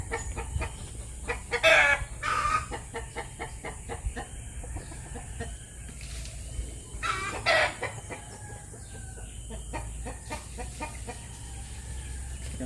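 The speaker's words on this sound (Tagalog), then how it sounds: "Mag-ingay itong manok ko." A nearby chicken clucks and a rooster crows, with two prominent loud calls over a steady stream of softer clucking and rural background noise.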